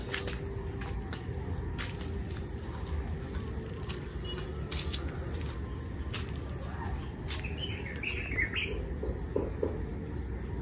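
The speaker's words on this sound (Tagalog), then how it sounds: "Puro ibon lang marinig ninyo." Birds chirping outdoors in the Philippine countryside on a calm, cool morning, a few faint scattered tweets and a brief trill over steady low rumbling background noise.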